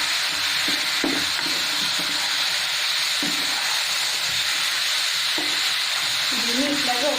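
Marinated chicken frying in a pan for chicken fry, with a steady loud sizzle throughout and occasional scrapes and clinks of stirring.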